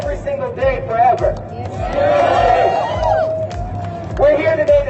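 A large rally crowd outdoors cheers, whoops and claps in a steady roar, with a voice carrying over the top near the start and end.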